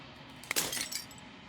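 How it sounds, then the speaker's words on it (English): A pane of glass shatters in Slay the Princess, one sharp crack followed by a brief spray of tinkling fragments that fades quickly, heard alone against near silence. "As the final fragment of glass shatters, you see yourself with newfound clarity."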